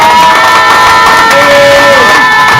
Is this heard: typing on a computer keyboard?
no